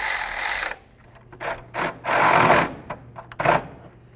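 A hand ratchet snugs up the water pump bolts on a 2003-08 Toyota Matrix, giving several short bursts of rapid clicking separated by pauses, close and fairly loud.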